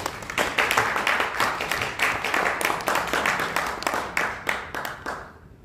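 A crowd at the launch event of a Korean political alliance applauds to welcome a speaker, with clapping in strong, regular surges that keeps a steady pulse for about five seconds before stopping.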